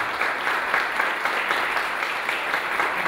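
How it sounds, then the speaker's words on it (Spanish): Audience applause for René Solís, brother manager, at a music event among books, a loud, steady sustained clapping from a crowd filling the whole moment without breaks. "para quien pido un fuerte aplauso"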